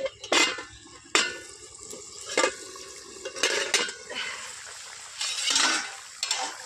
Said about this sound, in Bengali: বন্ধুরা, আমার মাছের ঝোল হয়ে এসছে কিনা দেখি, ঢাকনাটা আলগা করে।